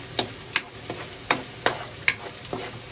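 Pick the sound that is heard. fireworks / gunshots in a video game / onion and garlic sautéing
onion and garlic sautéing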